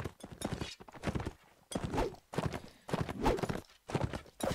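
Horse hooves clip-clop in rapid bursts in the Mount & Blade Warband video game, a steady galloping rhythm broken by short pauses, fairly close and loud with no talking.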